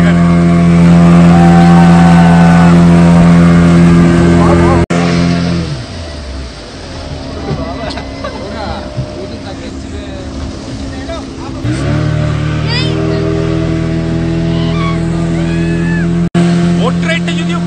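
A speedboat running on the water in Goa near Baga beach, its engine droning loud and close, revving and shifting pitch as the boat speeds and slows, with people talking over it.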